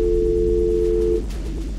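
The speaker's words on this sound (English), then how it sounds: "Regular dial tone." A steady telephone dial tone from the video game Back to the Future: The Game holds for about a second before cutting off, leaving a low background hum.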